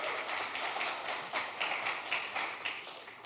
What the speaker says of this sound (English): You're supposed to clap, College of Business,